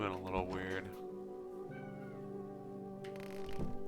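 Cat meowing several times, with tonal, wavering cries close to the microphone, mixed with a person's voice.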